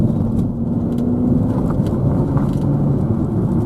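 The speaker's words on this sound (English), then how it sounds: "Just the odd car now and again." A car drives along a road near the ski slopes at Les Orres, giving a loud, steady, low engine and tyre rumble that fills the whole stretch.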